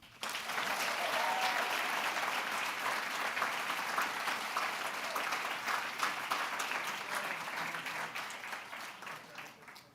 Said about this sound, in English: I know you're clapping for them